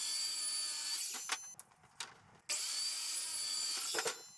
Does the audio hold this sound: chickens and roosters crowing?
no